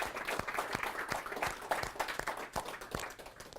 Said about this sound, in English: just give Nissan a round of applause